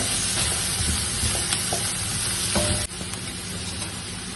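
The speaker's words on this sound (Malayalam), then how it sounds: "നമുക്ക് ഇത് നല്ലതുപോലെ ഒന്ന് വാട്ടിയെടുക്കാം." Chopped vegetables sauté in a hot pan for Kerala-style upma with a constant loud sizzle and hiss, broken by a few scraping stirs and a sharp clink of the spoon against the pan.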